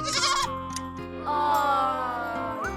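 A young goat kid from a fairy tale bleats loudly and closely in two wavering, tremulous calls, with a faint tinkling in the background.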